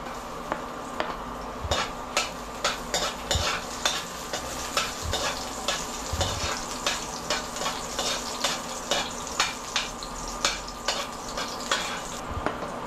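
Garlic sautéing in hot cooking oil for braised pork leg, a constant sizzle broken by regular rhythmic scrapes and taps of a utensil against the pan, roughly one stroke per second, close and without voices.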